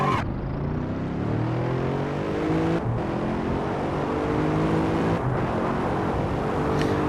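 A race car engine in a VR racing game revs loudly and continuously during a time trial, with rising and falling harmonic whine as it shifts through gears, and no voices over it.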